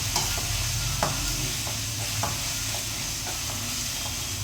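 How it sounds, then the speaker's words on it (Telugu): Ginger garlic paste fries in a pan for a fish curry while being stirred, a steady close sizzle with repeated scraping spoon strokes and no voices. "అల్లం వెల్లుల్లి పేస్ట్ మాడు పట్టకుండా ఉండాలంటే బాగా కదిలించుకోవాలి."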